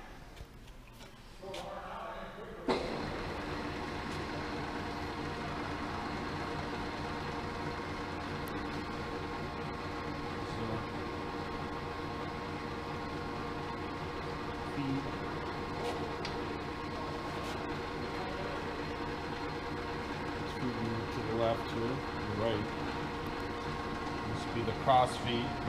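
A South Bend 13 x 54 inch tool room lathe in very good condition is switched on and runs with a steady, quiet mechanical hum and whir, holding constant throughout after startup.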